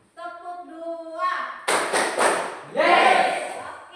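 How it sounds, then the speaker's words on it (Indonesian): Schoolchildren do a spirit clap together, a loud flurry of group claps landing in two quick beats then a longer burst, after an adult voice speaks. "Oke, kita tepuk semangat dulu."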